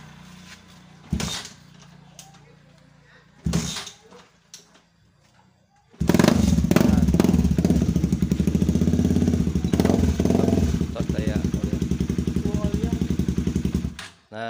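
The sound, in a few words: Honda CB150R motorcycle engine running without battery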